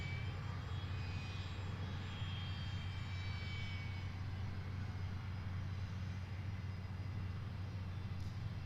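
A private jet taking off at Boeing Field roars steadily at a distance, a broad continuous engine rumble with a faint whine drifting across, and no speech.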